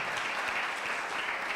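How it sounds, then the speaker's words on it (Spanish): A church congregation applauds mothers with a steady, dense burst of clapping that fills the whole short stretch at an even level. "Un aplauso a todas esas madres."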